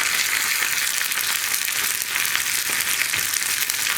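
Dried red chillies and curry leaves fry in coconut oil while being stirred, for a pumpkin and raw banana curry. A steady, close, bright sizzle runs throughout with faint scraping.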